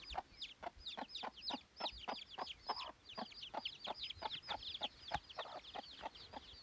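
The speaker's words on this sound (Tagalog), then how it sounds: "Huluano na manok." Egg-laying hens on a chicken farm cluck and chatter continuously in quick, overlapping calls. They sound fairly faint and a little distant, with no one speaking.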